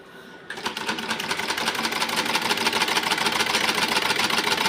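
An old Butterfly sewing machine, serviced and in fresh condition, starts after a brief pause and then stitches in a steady, fast, close mechanical rattle that builds slightly louder, with no talking.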